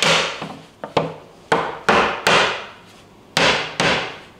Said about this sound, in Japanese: 僕今金槌、木槌で叩いたんですけれども